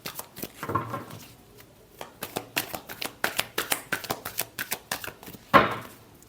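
Tarot cards are shuffled by hand in quick, crisp riffling bursts, a close, dense run of papery flicks and slaps with brief pauses between strokes and no voice over them.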